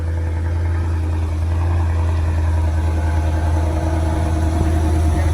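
A 2020 Cadillac CT5 sits idling with a steady, low, even engine hum heard up close, unbroken and without talk throughout.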